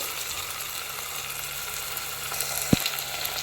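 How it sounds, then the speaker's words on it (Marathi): Garlic sautés in a hot pan with a steady, soft sizzle and frying crackle throughout, with one brief stir or clink of a utensil partway through. "लसूण पण थोडासा परतला गेला पाहिजे"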